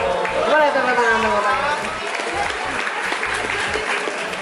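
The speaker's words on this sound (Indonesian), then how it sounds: "Boleh tepuk tangan" Audience applause rolls through a university auditorium during a comedian's talk, sustained clapping with a voice speaking over it near the start and music-like tones in the background.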